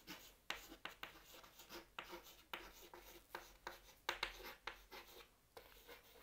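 Pen scratching across paper while a maths solution on tangents and normals is written out, a quiet series of short strokes and scribbles in an irregular rhythm, close and alone.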